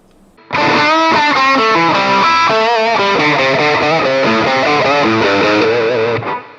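An FGN BIL2-M electric guitar plays through heavy distortion, with loud, sustained chords and bending notes that start abruptly and ring out for about six seconds before cutting off.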